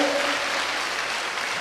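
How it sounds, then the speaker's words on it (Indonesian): Church congregation applauding during a sermon, a brief burst of dense clapping at moderate level that holds steady for under two seconds. "Tepuk tangannya paling meriah."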